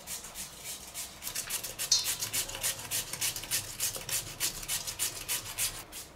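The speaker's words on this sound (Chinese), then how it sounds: "洗净的黄瓜给它擦成丝" A washed cucumber is grated into shreds, a quick, regular series of close rasping strokes repeated many times in a steady rhythm, with no talking.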